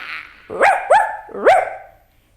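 A pet dog barks three times close and loud, in two quick yips followed by a single bark, with nothing else heard.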